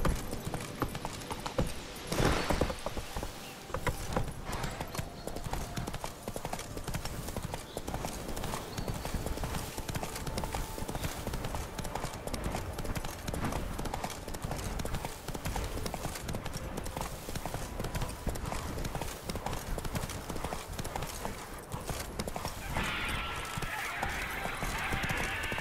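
Roach the horse from The Witcher 3 clip-clops steadily along in a fast, continuous hoof rhythm, close and clear over game ambience, with some talk and a brief brighter burst near the end.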